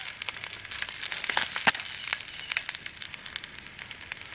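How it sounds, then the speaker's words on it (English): Two sausages sizzle in a pan on a camp stove, giving a steady, fairly quiet crackling hiss with small pops scattered throughout. "I'm gonna cook 2 sausages"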